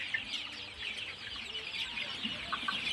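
Young chickens about a month old crowd around water in a coop, clucking and chirping softly in a continuous, faint chatter with scattered brief calls.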